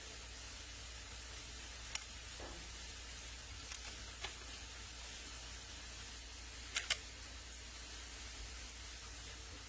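Onions frying in a pan, a faint, steady, even sizzle throughout with a few tiny clicks and taps scattered over it.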